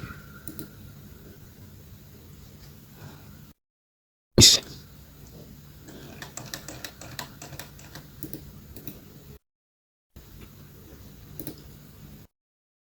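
Typing text on a computer keyboard, soft irregular clicks and bursts of keystrokes close by, broken by short silent gaps and one sharp knock, without speech.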